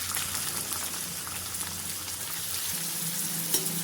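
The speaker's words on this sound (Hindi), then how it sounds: "इन सभी मसालों को डाल करके हल्का सा भून लेंगे। अब यहीं पे लहसुन, अदरक, कटे हुए प्याज भी डाल देंगे।" Garlic, ginger and chopped onion frying with whole spices such as cloves, black pepper and cumin in a pan, a steady close sizzle with light stirring scrapes throughout, no voices.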